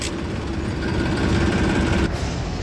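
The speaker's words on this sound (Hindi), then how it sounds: "और ये देखो जी ओरिजिनल एंटीक फोर्ड गजब वाला। आवाज देखो जी, ओरिजिनल साउंड डायाफ्राम की।" An antique Ford tractor engine runs steadily at close range with a loud, constant rumble. Its note barely changes, and a brief noise cuts in near the end. Nobody talks.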